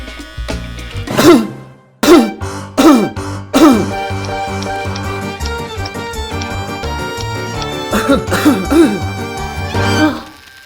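Repeated harsh coughs and throat clearing in short bursts over background music, clustered early and again near the end.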